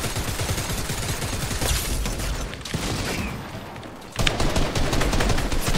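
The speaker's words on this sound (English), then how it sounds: "That primal shotgun was nasty. It ripped me apart." Rapid primal shotgun blasts in a Fortnite match crack out loud and close in quick bursts, with a brief lull before the firing resumes at full force.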